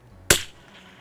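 A single sharp gunshot cracks out close by as a round from a freshly loaded magazine is fired at a target, with a brief decaying tail afterward.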